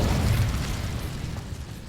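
A short, loud fiery burst as the Incendio fire spell blasts a crate in the video game Hogwarts Legacy, a heavy low whoosh that fades over about two seconds.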